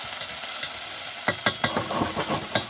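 Aromatics frying hard in a pressure cooker over a Trangia stove, a steady close sizzle with a few sharp clinks of stirring about halfway through and more scraping after that.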